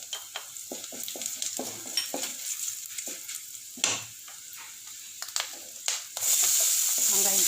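Crushed garlic and asafoetida hit hot oil in a pan, giving sharp crackling spits and stirring clatter that settle into a steady, loud, close sizzle by the end.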